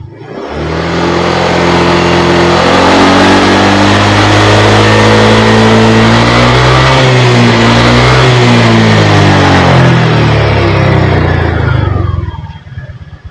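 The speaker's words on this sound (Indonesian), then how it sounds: "Terus kita coba naikkan RPM nya ke 80." A Honda Vario 125 scooter engine with a faulty idling-stop system revs loud and close, climbing and holding a buzzing drone for about twelve seconds before easing off.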